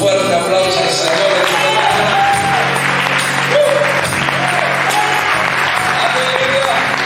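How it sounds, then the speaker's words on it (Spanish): A congregation at a Mennonite church's centenary gathering in Tres Lomas bursts into strong, sustained applause, dense clapping with faint voices and cheers mixed in, filling the room. "Vamos a darle un fuerte aplauso al Señor."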